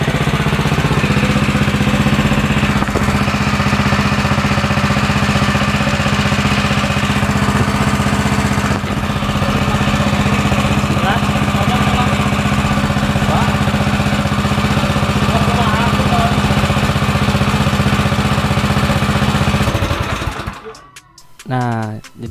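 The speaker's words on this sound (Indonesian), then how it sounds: "itu sudah di testing ya, mesinnya nyala dan suaranya mulus juga" A Ya-Oke WP30 gasoline-engine irrigation water pump with a 7 HP motor runs steadily and loud up close, an even throbbing drone that cuts off near the end.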